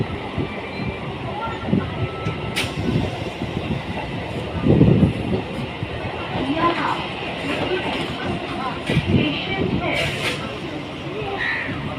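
A local train running just after leaving Memari station, with a steady rumble and rhythmic wheel clatter heard from inside the carriage, while a person talks over it.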